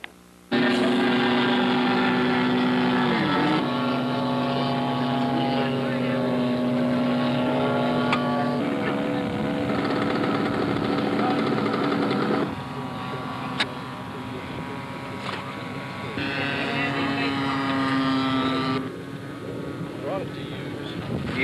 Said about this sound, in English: Another popular entry is the Cap 10, which is a very highly aerobatic airplane